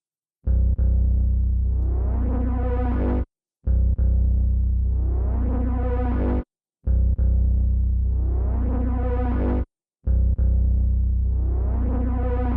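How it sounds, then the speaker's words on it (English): A deep synth bass pattern loops four times, each phrase a rumbling low drone with sweeping, warbling upper tones, separated by brief silences. "I grabbed these two basses right here"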